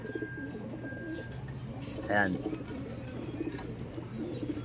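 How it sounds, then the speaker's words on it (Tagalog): Birds in an aviary with pigeons among them, giving soft cooing and a brief louder warbling call over a low hum while a person says a single word. "Yan yung mga ibon natin dito sa aviary."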